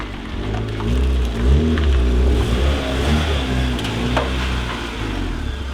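A turbocharged B18 engine in a Honda Civic hatch revs on a dyno. The loud, wavering engine drone rises and falls in pitch over several seconds.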